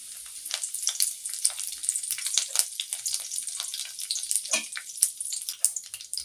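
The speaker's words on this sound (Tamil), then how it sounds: "தாளிக்கிறதுக்கு வேறு எதுவும் போடாமல் கருவேப்பிலை மட்டும் போட்டுக்கலாம்." Curry leaves sizzle and crackle in hot oil for tempering, a dense run of sharp spitting pops over a steady hiss, close and fairly loud, with no talk.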